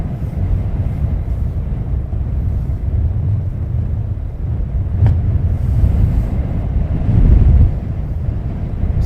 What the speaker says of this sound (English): winds are gusting up to 41 miles per hour here